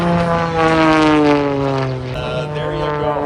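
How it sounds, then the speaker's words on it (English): A propeller airplane performs a snap roll at the Abbotsford Airshow, its engine a loud, close, steady drone that sags in pitch as it tumbles, with no talk over it. "Let's snap roll the airplane on the way down"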